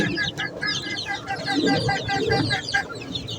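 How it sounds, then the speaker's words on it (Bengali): A mother hen clucks close by among her chicks, letting out a run of soft, repeated clucks over steady high chirping. "মুরগিটা বাচ্চাদের খুব খেয়াল রাখে এবং যত্ন করে"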